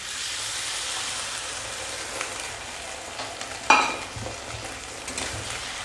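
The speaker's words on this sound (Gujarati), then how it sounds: "આ સોસ એડ કરી અને એને મિક્સ કરી લેવાનું છે, કૂક કરી લેવાનું છે." Paneer chilli fries and sizzles softly in a pan as sauce is stirred in, with a sharp clink of a utensil against the pan midway and light scraping afterward.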